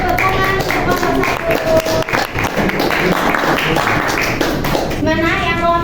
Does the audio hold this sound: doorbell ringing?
no